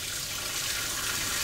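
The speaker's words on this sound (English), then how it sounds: "Just a little bit of hot water rinse to get the molecules going." Hot water from a sink tap runs in a steady hiss, rinsing sticky dab pen parts, close and fairly loud.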